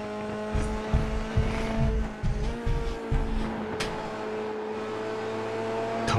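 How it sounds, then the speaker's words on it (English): Race car in iRacing at Circuito de Jerez, engine droning at a steady high pitch with a series of choppy low bursts from rapid downshifts, then settling into a smoother sustained tone. "Downshifting in red line"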